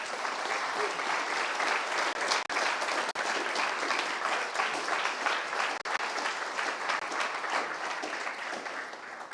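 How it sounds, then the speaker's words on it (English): Warm, sustained applause from a seminar audience at the Building Centre in London, dense steady clapping filling the room for about nine seconds with no voices over it. "can we have a really warm round of applause"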